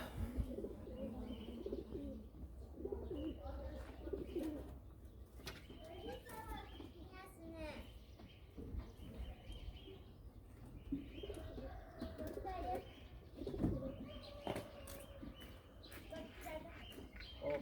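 Pigeons cooing in a loft, soft repeated coos with chirps and wing flaps, faint and somewhat distant, with people talking at times.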